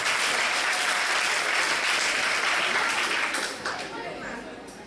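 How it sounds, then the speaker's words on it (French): Loud, dense applause from an audience at a youth debate competition's closing ceremony and final, holding strong before tapering off in the last second or so. "je voudrais encore une fois vous demander de l'applaudir"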